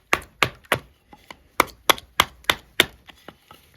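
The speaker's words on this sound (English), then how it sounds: "let's try some light chopping, see how it does at preparing a point here on this piece of wood" A Cold Steel SRK Compact knife chops a piece of wood to shape a point, striking about ten sharp, separate blows in an uneven rhythm, close and loud with no talking.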